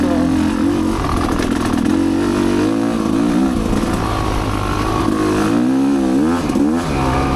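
A trail motorcycle's engine revs loudly and up close on a woodland trail ride, the pitch rising and falling through repeated throttle blips, with some rattle, and no talking.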